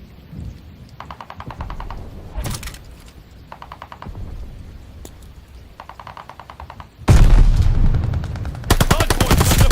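Bursts of gunfire crackle from a video game battle around a contested hard point, rapid volleys through the first half, then loud, dense sustained firing near the end.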